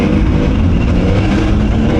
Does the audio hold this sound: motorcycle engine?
yes